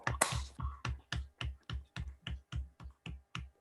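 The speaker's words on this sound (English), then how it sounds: "Let's do a round of applause if everyone could unmute, and then I'll count to 3 and then we'll clap." Online seminar participants clap over unmuted microphones after a graphs and matroids talk, a burst of overlapping claps at the start settling into about a dozen sharp, evenly spaced single claps, close and isolated against silence.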